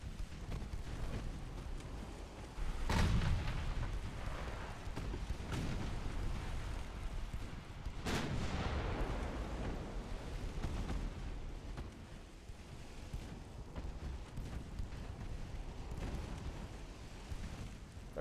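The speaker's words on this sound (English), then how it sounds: "They're actually shooting at our frickin' light cruisers" Naval gunfire aimed at light cruisers in a naval strategy game battle, heavy booming salvos with two sharp blasts standing out against a continuous rumbling battle din, no voices.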